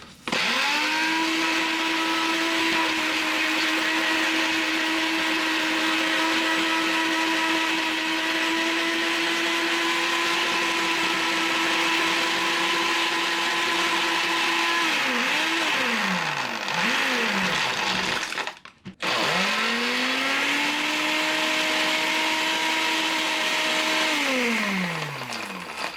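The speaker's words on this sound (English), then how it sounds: "So because I'm doing it in a blender, I do have to do it in different stages" A kitchen blender running while baking, whirring at a steady high pitch, winding down near the end, then briefly stopping and spinning up again for another burst, loud and close.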